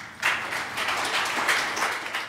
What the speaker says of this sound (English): let's give a round warm of applause for Adarsh